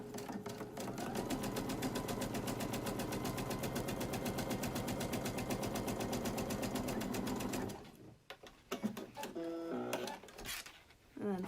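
A sewing machine stitches the side seam of a fabric face mask in one long, even, rapid run with a dense regular rhythm, then stops and gives way to handling clicks and rustles.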